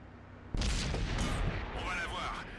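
A tank cannon fires in World of Tanks on PS4 from an AMX AC 48: one sudden loud boom followed by a long rumbling tail with whining mechanical sounds, under a voice giving orders.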